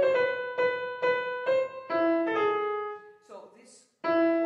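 Solo piano plays the main motive of Shostakovich's Piano Sonata No. 1, a series of repeated struck notes and a rising chromatic line with brief pauses, fairly quiet and close.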